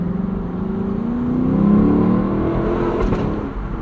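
A 2024 Lexus LC 500 convertible's V8 exhaust rumbles steadily through gear shifts, swelling in the middle with a rising rev and a brief sharp bark near the end, close and fairly loud.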